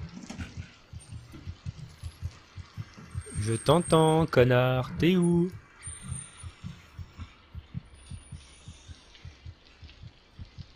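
Low, regular heartbeat thumps pulse through the horror game Among the Sleep, continuing steadily while someone speaks loudly over them for a couple of seconds, then carrying on alone.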